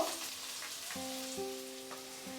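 Chopped capsicum, carrot and beans sizzling in a pan of oil, a soft continuous frying hiss heard close, beneath a quiet tonal background and without any talking.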